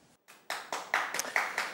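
A small studio audience on a French television show claps in a few distinct bursts, each a short sharp flurry of hands, moderately close and separated by brief gaps.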